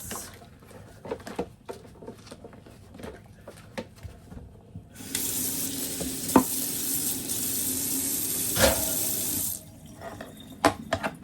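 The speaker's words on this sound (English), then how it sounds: "It's really simple to just wash and rinse." Tap water rushes steadily into a kitchen sink while parts of a kitchen appliance with bits of vegetable are rinsed, a loud continuous gush lasting several seconds, framed by quieter clinks and knocks and no talking.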